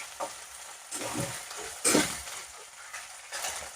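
Crushed chillies fry in a pan for a chicken curry, giving a quiet, rough sizzle with a few louder bursts of crackle, likely from stirring, with no talk.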